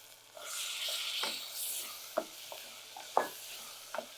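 Onions frying softly in a pan with turmeric powder while making mint parotta, a gentle close sizzle broken by several sharp scraping stirs of a spoon, no talking.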